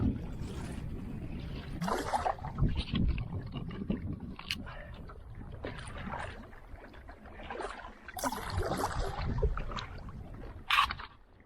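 Canoe paddled down a long lake with ice in spots, soft irregular splashes and drips of paddle strokes with faint knocks on the hull, quiet and close.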